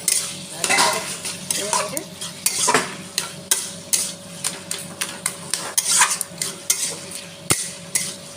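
A utensil stirring ilish fish head and taro stem curry in a pan, with close, repeated scraping and clinking strokes in an uneven rhythm over a soft sizzle, and no talk.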